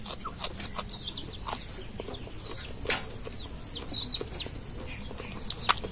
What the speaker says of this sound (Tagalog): Makukulit yung mga manok.